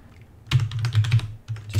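Keys on a computer keyboard are typed in two quick bursts of close, crisp clicks separated by a brief pause.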